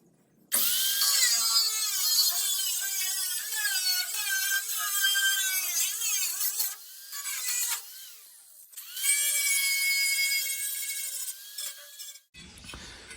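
A power tool cuts through car body panel metal during the restoration of a Vauxhall Astra Mk2 GTE 2.0L 16V, making a loud, close, continuous shrill whine with shifting pitch. The sound pauses briefly twice and then stops.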